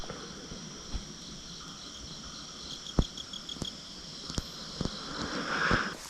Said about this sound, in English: The sound in the night forest is very difficult to convey in words.